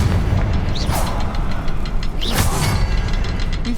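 A Confringo fire spell blasts twice in Hogwarts Legacy, played on hard difficulty, with sharp bursts over a dense, noisy cavern background and no talking.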